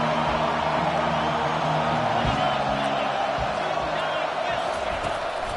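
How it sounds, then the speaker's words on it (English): Home crowd at an Oregon football game roaring steadily on a third-down defensive play, a broad continuous stadium din with no letup, and a commentator talking underneath. "Here comes this home crowd as the defense tries to get off the field on 3rd down."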